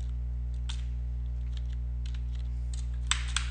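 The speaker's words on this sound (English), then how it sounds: "we're gonna type RFC" Keys clicking on a computer keyboard in short bursts of typing, faint and close over a steady low electrical hum, with a couple of sharper taps near the end and no talking.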